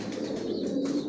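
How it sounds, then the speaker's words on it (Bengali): Breeder pigeons in a rooftop stock loft give soft, low coos close by, a brief murmuring cluster of calls over light background noise. "যেখানে যে কবুতরগুলো দেখতেছেন, এগুলো সব বিডার"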